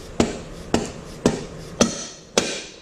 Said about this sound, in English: So once you get your axle nut off, take your rubber mallet.